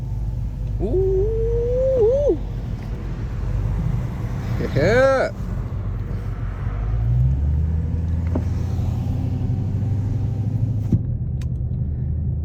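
A classic car's engine rumbles past in traffic as low, steady road noise that swells in the second half, with brief exclamations from a person in a nearby car over it.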